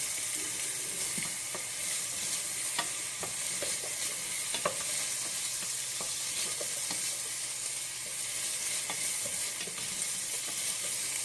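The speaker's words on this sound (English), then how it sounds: "Just saute your onions for a little bit." Onions sauté in a pan for a mung bean coconut curry, making a soft, even sizzle with scattered clicks and scrapes of stirring, heard close and alone.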